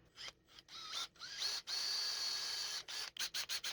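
A small power drill boring a 1/4 inch hole in a handmade lipless crankbait, quiet whirring bursts of varied length with brief stops and short stuttering pulses at the end.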